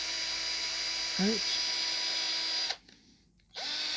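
Power drill whirring steadily at high pitch during a prop ghost trap modification, briefly revving up, cutting out for nearly a second, then starting again, with a short word spoken partway through.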